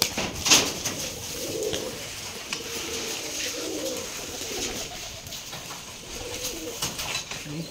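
Giribaz pigeons at a pigeon farm in Rajshahi coo softly again and again close by, with a brief flutter of wings near the start and faint talk in the background.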